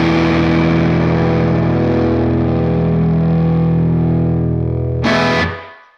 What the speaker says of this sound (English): It's just the timbre of a crazy loud tube amp with this guitar.